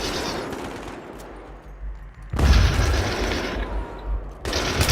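Gunfire in the video game Battlefield 3, loud bursts of automatic shots with heavy booming impacts in two sustained stretches, separated by a quieter gap.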